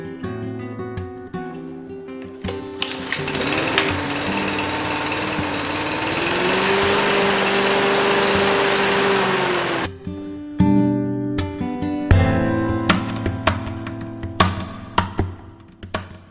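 A lawn mower on a test run revs up into a loud, steady close engine roar for several seconds, then cuts out, leaving scattered clunks and knocks of handling.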